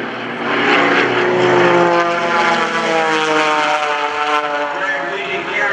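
Aerobatic propeller aircraft performing in formation at the Greenwood Lake Airshow, a loud droning engine roar that swells and shifts pitch as the planes climb and turn overhead, continuous and close throughout.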